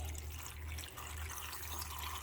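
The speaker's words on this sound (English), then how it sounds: "you just want to cover these with water" Water pours steadily from a tap over freeze-dried peppers in a kitchen to cover them, a faint continuous rushing stream heard alone.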